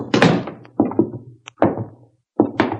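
A radio drama sound effect of a door being pushed open, with a series of close, heavy knocks and thunks, a brief metallic tick, a pause, then more bumps.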